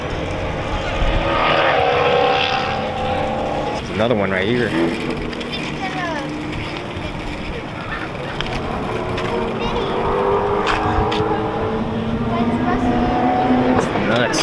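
Low single-seat race cars on slick tires run at a NASA season-opener event at MSR Houston, their engines droning and passing steadily in the background while people talk nearby.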